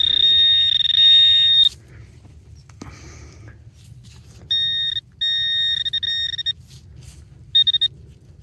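A metal detector's high electronic tone beeps in sustained bursts with gaps between, the later ones short and choppy, over quiet background in a field.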